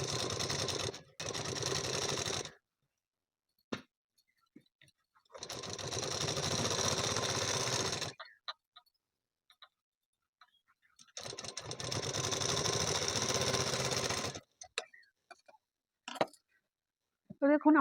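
A sewing machine stitching a blouse runs in three separate bursts of steady mechanical whirring, each lasting a few seconds, with quiet gaps and small clicks in between.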